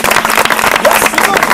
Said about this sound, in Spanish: Dale un fuerte aplauso para ti.